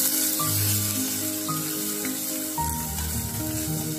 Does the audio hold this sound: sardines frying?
yes